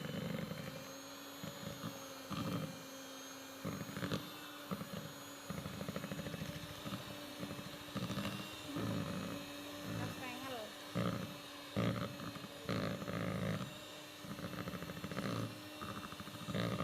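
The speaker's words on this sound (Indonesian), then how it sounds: "Kemudian ini saya mixer asal tercampur rata aja, kira-kira 1 menitan." An electric hand mixer beats margarine into kastengel cheese-stick dough, giving a steady motor whir with changing pitch that runs for the whole stretch, with a voice talking over it.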